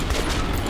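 A rapid burst of loud gunfire in the video game Metro: Last Light, dense overlapping shots crowding a very short moment.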